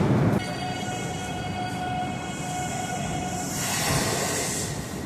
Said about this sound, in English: Oh, this train's leaving in 2 minutes, so you can watch it go.